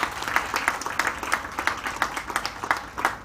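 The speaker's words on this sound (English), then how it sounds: "Give yourselves a big round of applause." Audience applause at a scientific merit awards ceremony, steady rapid clapping from many hands lasting throughout, fairly close and loud with no talk over it.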